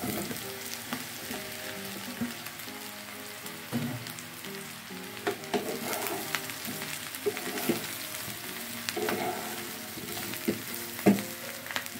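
Tempeh frying in a pan with sautéed large green chilies, a lively sizzle and crackle with occasional stirring scrapes and clinks, close and steady throughout, with no talk.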